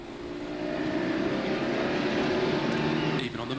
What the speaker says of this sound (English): You could hear the throttle firmly open up as the road straightened up.